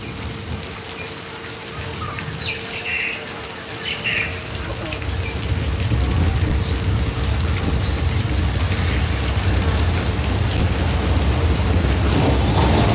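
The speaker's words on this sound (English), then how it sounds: "hey tech booth, let's turn our rain up to a 10." Artificial rain pours down on a Universal Studios Hollywood stage show set, starting as a moderate hiss and growing into a heavy, loud, steady downpour, with faint mechanical sounds underneath.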